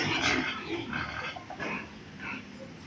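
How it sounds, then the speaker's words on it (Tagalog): Pigs on a rural backyard farm grunt and oink repeatedly, asking for food; several close, irregular grunts follow one another across the clip with no talk. "Agang-aga pa ha, mga baboy."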